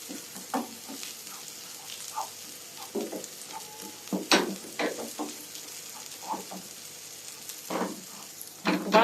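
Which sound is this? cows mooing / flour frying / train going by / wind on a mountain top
flour frying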